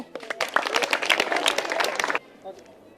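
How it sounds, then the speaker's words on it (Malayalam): Schoolchildren in a high school clap together in a brisk burst of many hands lasting about two seconds, then stop abruptly, leaving faint room noise. "ഒരു ക്ലാപ്പ് ചെയ്തേ"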